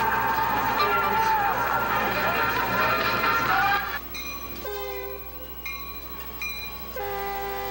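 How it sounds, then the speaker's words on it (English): A train rolls past the tail end of a small-town foothill parade, its loud rumble and horn dominating at first. Sharp horn blasts sound after it, and a voice talks underneath. "A train did intersect the tail end of the parade"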